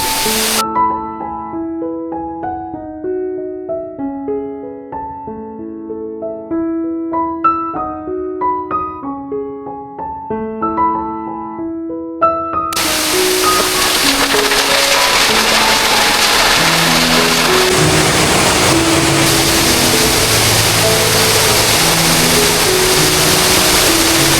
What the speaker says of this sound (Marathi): तिथून आणि हा धबधबा पडत आहे